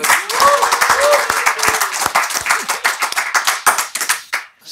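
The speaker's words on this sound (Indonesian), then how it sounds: "Tepuk tangan buat Bung Andika." An audience on a talk show claps and applauds for a guest named Andika, a dense burst of hand claps that carries on for several seconds and then quickly fades out.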